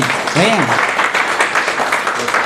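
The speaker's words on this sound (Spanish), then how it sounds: "date un fuerte aplauso" Spanish-speaking church congregation giving a strong round of applause, clapping under a voice that speaks and briefly sings over it.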